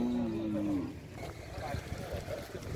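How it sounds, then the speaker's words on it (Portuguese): A Holstein dairy cow at a cattle fair in Ibiapina, Ceará, gives one loud, close moo lasting under a second, followed by crowd chatter and the noisy bustle of the market. "A vaca leiteira."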